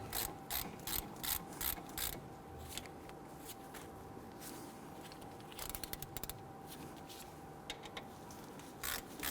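Ratchet clicking in quick bursts while snugging down brake caliper bolts on a 2008-2013 Infiniti G37 during a front brake job, close and clear over a steady low hum, with pauses between runs.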